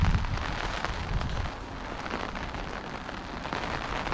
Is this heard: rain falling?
yes